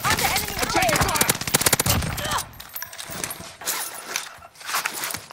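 Rapid automatic gunfire from a Warzone match on Rebirth Island, a dense burst of close shots for about two seconds, then scattered thuds and movement at lower level with game voice callouts.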